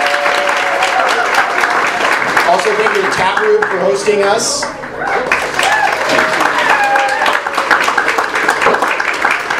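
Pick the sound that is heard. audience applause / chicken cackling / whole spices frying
audience applause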